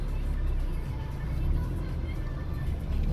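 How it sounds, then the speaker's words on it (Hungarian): A Honda Jazz 1.4 car pulls away and drives forward, giving a steady, close low engine rumble with road noise that holds even for the whole few seconds. "Szépen megy előre az autó"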